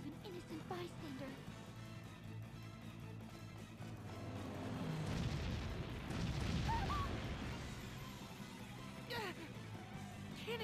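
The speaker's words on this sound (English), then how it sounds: "Cannon fire? This is madness!" Cannon fire booms through a village under attack in Bravely Default, a broad rumbling swell in the middle of the stretch beneath game music and character voices.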